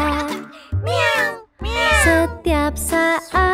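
A cartoon cat meows in a children's animated show: four drawn-out, high, bright meows with short gaps between them, loud and close, with no other sound behind them.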